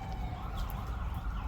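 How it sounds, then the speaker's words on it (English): A faint ambulance siren wails steadily in the distance, its continuous warbling tone sitting low under a quiet background hum. "And of course, there's an ambulance."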